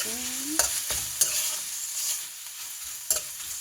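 Pork stir-fried in a hot pan with mushrooms, pickled bamboo shoots and eggplant for a spicy pork stir-fry, a steady sizzle broken by sharp spatula scrapes and clanks against the pan.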